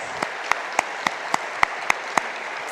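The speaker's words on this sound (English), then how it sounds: "And let's give them a round of applause." Audience applause at a U.S.–Africa business summit, a steady wash of many hands clapping with a few sharper claps standing out at regular intervals, moderately loud and continuous with no voices over it.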